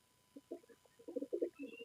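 Soft pigeon cooing, several low throaty bursts growing slightly louder toward the end, close by with a quiet background.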